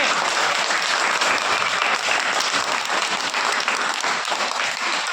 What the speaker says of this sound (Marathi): good clap your hand टाळ्या वाजवा वाजवा टाळ्या आंबेकासाठी